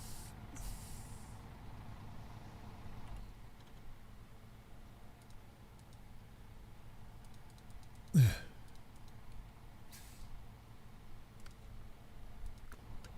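Air brake hiss from a White Western Star truck in the Snow Runner video game: a short, sharp burst around the middle rising over a steady low engine rumble, with faint hissy puffs before and after.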